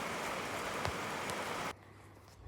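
Heavy rain pours down hard outdoors in the UK, a dense, loud, steady roar that cuts off abruptly to a quiet background.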